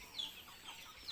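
Chickens clucking softly and intermittently in a poultry house, faint and fairly distant, with a few brief higher calls standing out.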